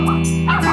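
Two dogs barking and yipping in short, close bursts, with whimpering yelps mixed in, loud and continuous over a steady low hum, no talk.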